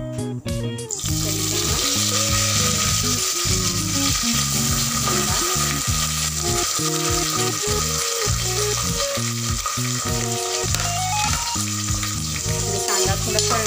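Curry leaves and onion frying in oil for tempering, a loud dense sizzle opening with sharp crackles, then sustained close frying with repeated stirring scrapes throughout, no talk.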